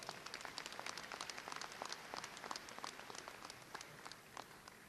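An audience at a university spring commencement applauds: many hands clapping at once, a steady and fairly distant patter that holds evenly throughout, with no voices above it.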